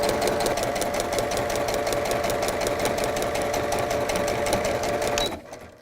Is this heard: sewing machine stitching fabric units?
yes